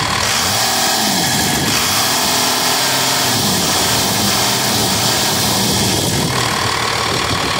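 A 1989 Dodge D250 diesel idles loud and close, a continuous rough, clattering rumble with a steady throb and no speech over it.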